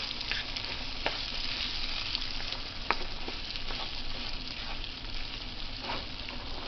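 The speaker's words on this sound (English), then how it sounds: "especially frying potatoes" Potatoes frying in a pan, a constant dense sizzle with occasional crackles and pops, close and loud with no voices.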